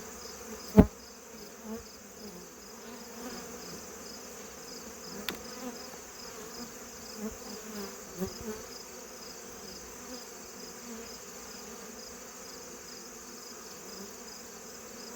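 Honeybees hum and buzz steadily around an open hive with a queenless colony, a constant close drone, punctuated by a few sharp clicks and knocks from handling frames.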